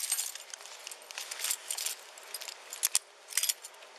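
A bunch of keys jangles and clinks in a box of found items, with several bright metallic rattles scattered through the moment, the clearest near the end, and no voices.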